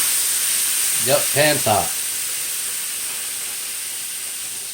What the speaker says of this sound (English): I want to sear it